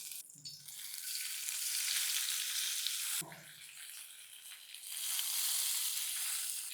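Squeezed bitter gourd frying in oil in a kadhai, with a loud, steady sizzle that dips briefly midway and then swells back up, without any talking.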